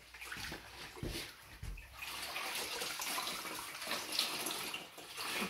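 Water sloshing and running as a cleaning cloth for a wood floor is dipped into a bucket and wrung out, close and continuous with splashy bursts.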